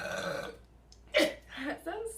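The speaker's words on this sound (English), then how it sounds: "She burps out of nowhere all the time." A young woman lets out a sudden loud burp mid-way, followed by a shorter guttural one, with people talking and laughing around it at close range.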